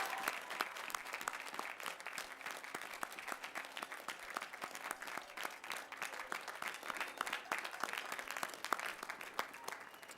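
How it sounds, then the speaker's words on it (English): Sustained applause from a large crowd honouring graduates at a Colorado School of Mines commencement, dense and even clapping that holds steady throughout at moderate distance. "Let's give our graduates one more round of applause."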